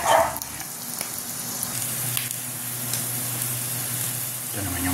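Garlic and onion frying in hot cooking oil in a pan, a steady close sizzle that holds for several seconds after the ingredients go in.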